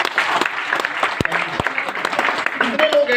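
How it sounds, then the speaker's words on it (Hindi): Loud applause fills a hall during a motivational speech, with dense, sustained clapping from a large crowd lasting throughout and no pauses. "उस इंसान के लिए जोरदार ताली और आप लोगों के लिए जोरदार।"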